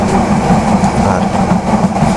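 Passenger train in motion, heard from the junction between two coaches: a loud, steady rumble with rattling clatter from the coupling, continuous and close throughout.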